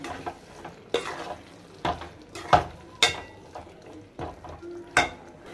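Spatula scrapes and stirs through a pan of chicken fry with curry leaves and green chillies, giving repeated sharp scraping strokes about once a second over a soft background sizzle.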